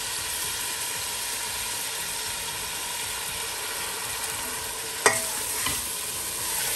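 Chicken, onion and garlic paste frying in a pan, giving a steady broad sizzle throughout, broken near the end by one sharp clack of a utensil and a softer knock shortly after.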